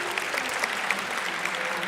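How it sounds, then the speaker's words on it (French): A crowd at the Ankama Convention applauds Cam with steady, dense clapping at moderate distance, continuous throughout and without clear speech. "on l'applaudit Cam"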